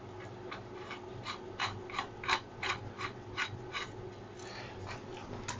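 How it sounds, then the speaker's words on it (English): A bicycle headset's bottom cup being tightened on a Torpado road bike gives a steady series of crisp, evenly spaced ratcheting clicks, close by, over a faint background hum. "I'm tightening that bottom cup until it's back to the ratcheting part"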